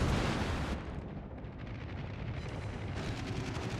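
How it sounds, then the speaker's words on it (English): Heavy naval guns roar from a warship firing on an aircraft carrier in World of Warships, a loud sustained booming blast that rumbles and fades into continuous low thunder. "we're going to shoot at the aircraft carrier"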